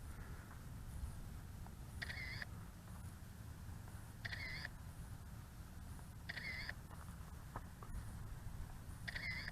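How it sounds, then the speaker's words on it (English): A KK10S GPS camera drone's shutter gives four faint, short electronic clicks, evenly spaced about two seconds apart, over a steady low background hum. "there's a little shutter noise"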